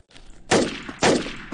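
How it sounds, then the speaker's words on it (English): M9 pistol firing in the video game CrossWar: two sharp, loud shots about half a second apart, each with a short decaying tail. No talking. "This is an SMG, or it's the same thing as this. That's right, the M9."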